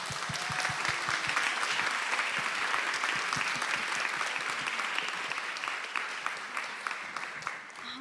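Audience welcoming panel speakers at a talk with warm, steady applause, many hands clapping densely and evenly before gradually thinning toward the end.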